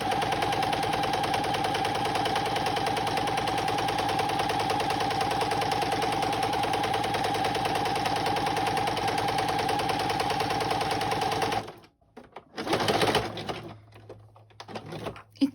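A sewing machine stitches through book pages for a junk journal, running in a steady, continuous mechanical whir for most of the stretch before stopping abruptly, followed by a few brief handling noises.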